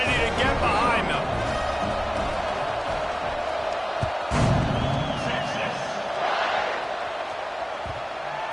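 A college football stadium crowd roars in a sustained wash of cheering and whoops before kickoff, with a sharp slam midway and a commentator talking over it.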